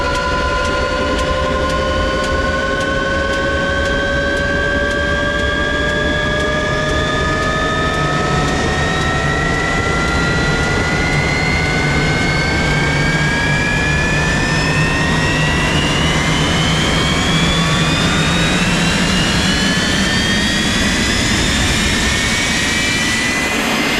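A roaring jet engine blasts snow off a car windshield in winter, a loud, continuous whine with rising tones that climb steadily throughout, over heavy rushing blast noise, close and sustained with no talking.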